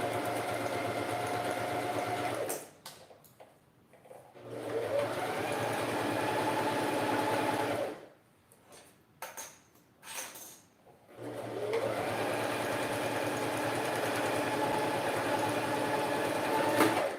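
A sewing machine stitches the lining seam of a men's toiletry bag in three long, steady runs, broken by short pauses with quieter handling sounds in between.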